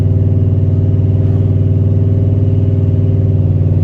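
A turbocharged Ford Mustang engine drones steadily during a short ride, loud and close, with a deep even rumble and no speech.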